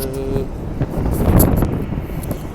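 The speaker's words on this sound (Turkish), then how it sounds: "Biraz çok rüzgar var." Strong wind buffets the microphone in loud, rumbling gusts aboard a ship at sea, with a low mechanical drone beneath.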